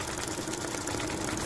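A Brother Innov-is embroidery machine stitches at slow speed while decorating a sweater, giving a steady mechanical whir with a fast, even pulsing rhythm, close and continuous, with no voices.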